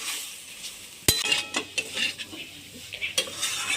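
A spoon scrapes and clinks against a pan while cauliflower poppy seed curry is stirred over low sizzling, with a sharp metallic knock followed by a run of irregular scraping strokes.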